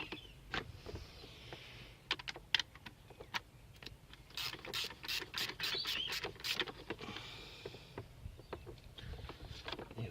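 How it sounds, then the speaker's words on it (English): A ratchet socket wrench tightens a sensor on a Toyota Celsior, sharp rapid clicks in bursts, a quick run of clicks in the middle, fairly close but quiet against faint background noise. "Just get the socket on that and nip that down."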